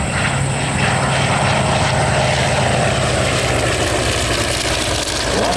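Steady, loud drone of an F4U Corsair propeller warplane flying at a 2003 airshow, a continuous engine roar that holds level throughout with no talking.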